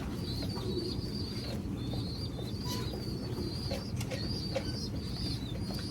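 Pigeons coo repeatedly in low, soft calls, with a few higher bird chirps mixed in against a constant background rumble.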